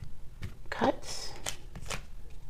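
Playing cards are riffled and shuffled in several quick bursts of crisp flapping, close by, with a voice murmuring between them.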